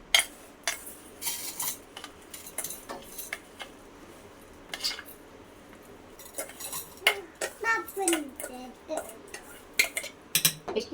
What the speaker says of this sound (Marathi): कैरीमध्ये आपण साखर मिक्स करणार आहोत